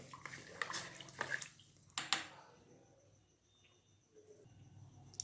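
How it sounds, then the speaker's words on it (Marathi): Sorghum grains swishing and rattling in water, a few splashy bursts up close followed by quieter trickling and small clinks. "सुरुवातीला ही ज्वारी अशी पाण्यामध्ये हलवून घ्यायची आहे"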